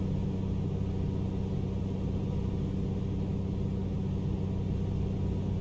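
In Microsoft Flight Simulator, an A2A Comanche 250 piston engine drones at reduced power, a constant low rumbling hum with a steady tone, unbroken and even for the whole stretch with no speech.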